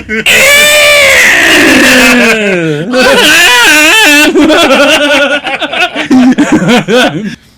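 A voice imitates a velociraptor screech with loud, rising and falling shrieking wails that break into strained, choppy cries before trailing off.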